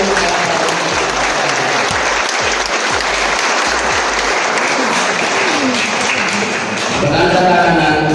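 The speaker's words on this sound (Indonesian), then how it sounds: "Kita beri tepuk tangan untuk pastor kepala paroki." A church congregation applauds a newly installed parish priest with loud, steady clapping that runs unbroken for several seconds, close and full, with a few voices mixed in near the end.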